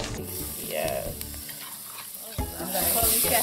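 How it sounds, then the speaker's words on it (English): Bahamian stew fish stirred in a pot, continuous sizzling and spoon scraping against the bottom, close and steady without talk. "Just keep stirring so it doesn't stick to the bottom of the pot."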